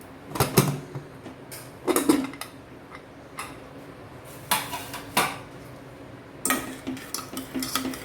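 Metal clinks and clatters as the lid of a cooled pressure cooker, used for moong dal, is handled and opened in a home kitchen, with sporadic sharp taps spaced a second or two apart over quiet room tone.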